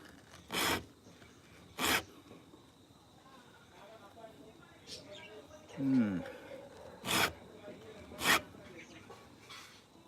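A hand file rasps a chainsaw chain's gullet during sharpening, giving four short, sharp strokes spread across the stretch with quiet pauses between them.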